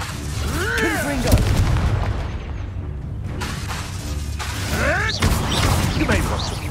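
A Confringo spell blast in Hogwarts Legacy lands as a deep booming explosion among other magical impacts, loud and close, with voices speaking around it.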